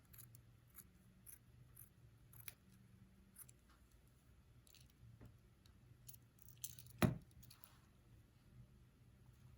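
Scissors trim and clip fabric for a sewn bird of paradise flower, giving faint, sparse snips in a quiet room with one sharper, louder cut near the end.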